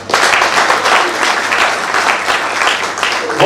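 Loud, close applause at a chaplains' rank-promotion ceremony in Chad, a dense and sustained wash of clapping from a large audience.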